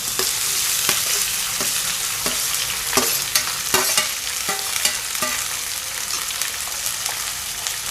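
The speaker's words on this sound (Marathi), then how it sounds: "आता ही कणगी कापून साफ करून घेतली आहे ती ह्यामध्ये घालून घ्यायची" Cut pieces of lesser yam (kanagi) sizzling loudly in a hot pan, with a steady frying hiss and regular scraping knocks as the pieces are stirred, close and without any voices.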